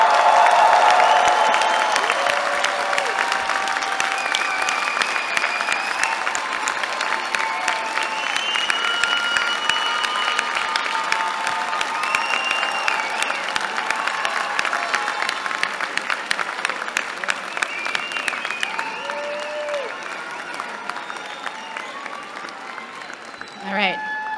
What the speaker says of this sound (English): give the loudest cheer to all of your families and friends here celebrating you